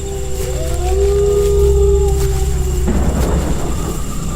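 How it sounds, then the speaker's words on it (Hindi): A fierce storm wind howls in an animated horror story, with long wavering whistling tones over a deep rumbling roar, then breaking into a rougher, gustier rush near the end, loud and close. "इतनी तेज हवा, कहीं घर की छत छप्पर ना उड़ जाए।"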